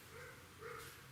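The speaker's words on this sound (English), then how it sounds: "There's too many dogs barking." Dogs bark outside, heard faintly and from a distance through a door, two quick barks in about a second with no one talking.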